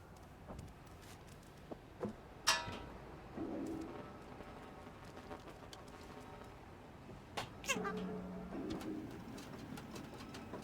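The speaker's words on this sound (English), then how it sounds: "We're going to meow" A cat meows a couple of times in the video game Stray. The short, soft calls rise over a quiet outdoor ambience with cooing pigeons.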